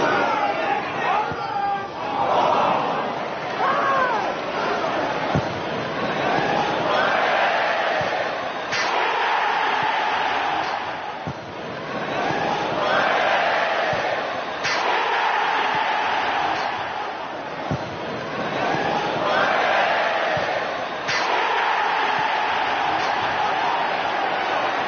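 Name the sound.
football crowd ridiculing and laughing at a player's touch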